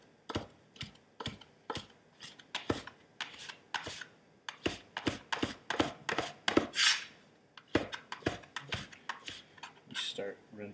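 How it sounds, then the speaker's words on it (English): Bacon sliced into half-inch strips with a knife on a cutting board, giving a quick run of sharp, close, rhythmic chops with short pauses. "Just cut it in like half-inch strips."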